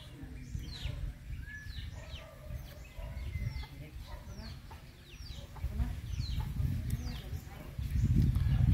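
Chickens, Philippine hens kept near a Rhode Island rooster, squabble and cluck with scattered short calls in the background, faint against a low rumbling ambience that grows louder toward the end.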